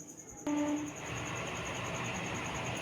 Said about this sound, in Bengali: ট্রেনটায় উঠলাম।